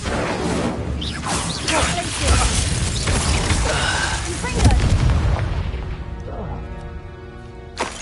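A fire spell cast in Hogwarts Legacy, heard as a loud burst of booming, crashing blasts with rumbling impacts that taper off into quieter magical effects.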